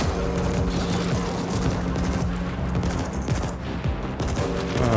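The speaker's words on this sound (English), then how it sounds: "burst fire's gonna take me a little bit to get used to" A burst-fire weapon shoots in a cyberpunk survival video game, rapid clustered bursts of loud, close gunfire repeating almost continuously for several seconds with no talking.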